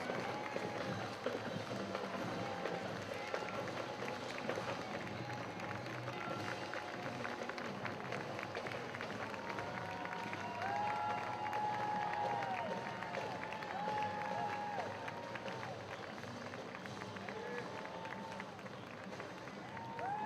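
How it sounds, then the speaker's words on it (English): Memorial Day parade crowd cheering and applauding veterans in a steady, fairly distant wash of claps and shouts, with faint voices mixed in. "That's right, cheer them on."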